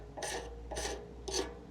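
A scraper rasps three times over dissolving paint stripper on a 2009 Yamaha R6 fuel tank, each short, even stroke separated by a brief pause and heard up close.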